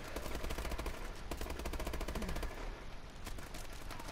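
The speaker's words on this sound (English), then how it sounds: "He's shooting me." Rapid automatic gunfire from a first-person shooter video game, dense bursts of machine-gun shots firing continuously and loudly throughout, with no talking over it.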